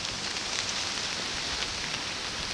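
Rain falls outdoors over leaf-strewn grass as a soft, steady hiss of drops, faint and even for the whole stretch with no voices.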